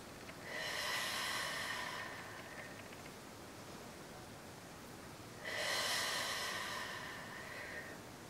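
Two slow, airy breaths, each lasting about a second and a half and spaced several seconds apart, are heard close and soft during a Pilates leg-lift exercise, with quiet room noise between them.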